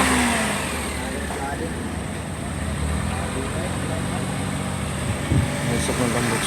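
A 2022 Toyota Wigo, flooded and brought back to life by a push start, revs its engine in a steady, loud mid-pitched drone with a brief surge near the end, while people talk around it outdoors.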